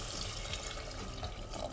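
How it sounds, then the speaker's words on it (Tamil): Water pours steadily into a pot for mushroom biryani with basmati rice, a continuous close splashing rush with no pauses. "இப்போ நம்ம அரிசிக்கு தேவையான தண்ணியை வந்து ஆட் பண்ணிக்கலாம்."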